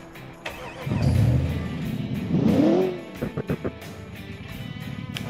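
Small sports car in the Automation game with a 140 HP engine and four carburetors, revving up and accelerating twice in rising sweeps, then dropping to a few short blips and an idle.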